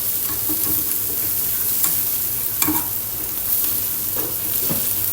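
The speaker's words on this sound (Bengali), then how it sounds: "তারপরে 1 চামচ পরিমাণ রসুন দিয়ে দিব, হালকা একটু ফ্রাই করে নেব।" Garlic and turmeric frying in oil for a KFC-style chicken fry crackle and sizzle continuously up close, punctuated by sharp spatula taps and scrapes against the pan, with no talking.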